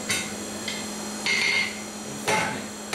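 Hammer blows on hot steel while forging the tip of a toasting fork, three or four separate ringing strikes spaced about a second apart, fairly close and moderately loud over a quiet background.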